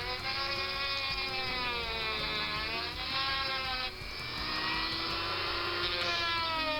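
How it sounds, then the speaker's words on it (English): A small rotary grinder whines steadily while grinding out the wheel arches of a Matchbox die-cast car casting, its high pitch wavering as the bit bites into the metal, close and continuous with no voices. "I'm grinding out the wheel arches, give a bit of extra room for the super fast wheels"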